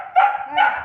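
A hungry dog barks twice in quick succession, close and loud, with short yipping, whining tones.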